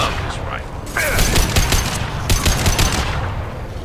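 Rifle fire in Mass Effect Legendary Edition, a video game: a loud close run of rapid shots with sharp repeated cracks, strongest in the middle, mixed with combat effects and a voice speaking over it.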